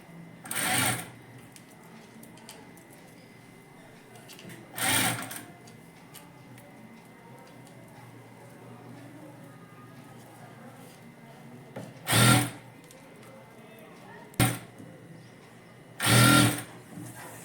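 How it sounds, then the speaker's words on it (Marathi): Sewing machine stitching a blouse, short whirring bursts of stitching spaced several seconds apart over a quiet room hum. "आता हे आतमध्ये ढकलायचं आणि हळूहळू शिलाई मारायची."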